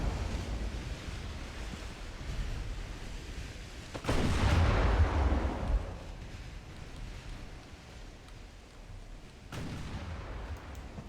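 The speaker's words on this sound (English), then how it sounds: "Lots of shots are a-flying from both sides." Battleship gun salvos in Ultimate Admiral: Dreadnoughts, a deep booming blast around the middle that rolls on and decays, then a second sharp report near the end, over steady sea and wind noise.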